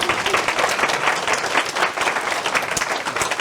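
An audience at a lecture in Korea gives steady applause, with many hands clapping in a dense, even wash that lasts throughout, close and fairly loud, with no talk over it.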